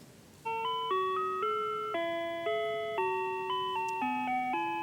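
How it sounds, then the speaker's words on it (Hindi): An electronic chime rings out a sequence of clear, steady tones, one after another, loud and close with no voices. "ये हमारे घर की ही घंटी है"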